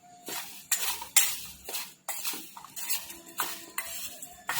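Chopped mango being mixed with salt and turmeric for a sour pickle, a utensil scraping and clinking against the bowl in a series of close, irregular strokes with short pauses between them.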